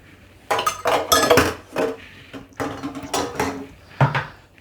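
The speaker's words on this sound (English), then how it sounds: "how it's still so much is in the cup, so I'll scrape this out" A spoon scrapes a thick eggnog mixture of heavy cream out of a cup in a kitchen, with close clinks and scrapes of utensil against the cup in several bursts, no talking.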